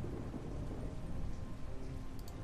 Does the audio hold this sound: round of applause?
no